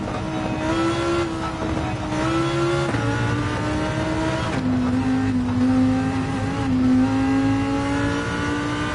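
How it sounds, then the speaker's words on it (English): A Lamborghini engine in Gran Turismo 7 roars loud and close throughout, holding a steady high drone with pitch dips and climbs as it shifts and accelerates during a race. "Lambo does sound great"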